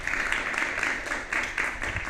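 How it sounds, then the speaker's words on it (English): Audience applause after a presentation at a Nordic climate tech demo day, a steady wash of many hands clapping throughout with no talk over it. "Let's give a round of applause for that."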